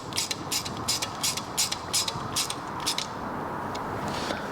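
Small fasteners on a 2023 Vespa GTS HPE2's original front crash bars being tightened with a ratchet, a quick run of crisp close clicking bursts in several groups over a steady low background hum.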